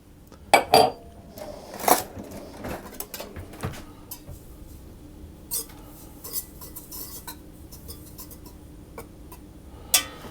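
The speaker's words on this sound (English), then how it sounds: "I'm just going to use a whisk to stir that through a little bit" A whisk stirs yeast in a stand mixer bowl, giving light metallic clinks and taps against the bowl in an uneven series, some sharp and close, others faint. No one speaks.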